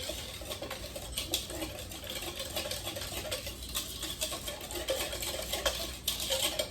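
Corn pudding batter whisked briskly in a bowl, giving a steady, close run of rapid scraping and clicking strokes that continues without pause and without any talking.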